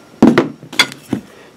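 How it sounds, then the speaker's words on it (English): A Harbor Freight dead blow hammer with a lead top strikes several times, giving close, dull, heavy thuds with a short ringing edge, about four blows spaced unevenly. "Dead blow hammer. This is from Harbor Freight."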